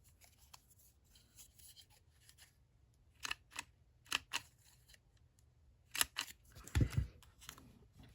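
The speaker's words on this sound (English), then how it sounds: "let me round these corners for a second here" A handheld corner punch rounds the corners of paper pieces for a keychain mini album, giving a few sharp, quiet clicks and crunches spaced a second or so apart, close up, with light rustling between them.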